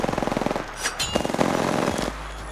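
Rapid automatic gunfire in a video game, a fast evenly spaced burst of loud cracks followed by denser overlapping shots and rattling, close and alone without talk.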